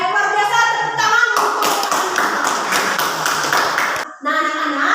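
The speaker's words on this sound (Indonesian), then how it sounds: "Baik, luar biasa, tepuk tangan." Classroom clapping from a group of pupils, a burst of dense hand claps lasting about three seconds, set between stretches of a teacher's voice speaking before and after.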